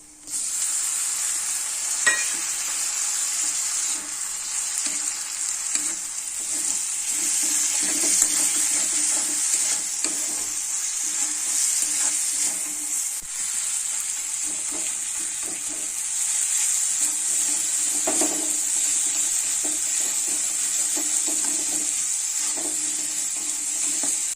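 Fish head and vegetables fry with a little water in a pan for an Odia chencheda, a steady close sizzle with intermittent spatula stirring and scraping over the whole stretch, no voices.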